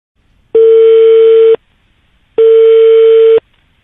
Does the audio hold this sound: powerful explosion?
no